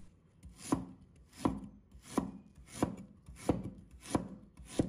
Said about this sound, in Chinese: 接下来我们准备一块生姜，把它切成片。